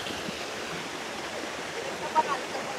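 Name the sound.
Pinagsabangan river flowing below waterfall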